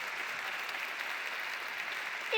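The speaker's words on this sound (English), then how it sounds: "Give them a round of applause, guys." A conference audience applauds event facilitators with steady, even clapping throughout the short stretch.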